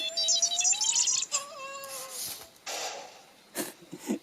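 Frantic electronic chirps, warbling whistles and bleeps from a Sphero R2-D2 toy robot in panic mode, rising and sliding tones tumbling over each other at close range with short bursts near the end.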